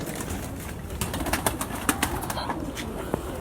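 Pure breed pigeons flapping their wings in a loft, soft bursts of wing beats and a few sharp flutters over a steady background hiss, with no talking.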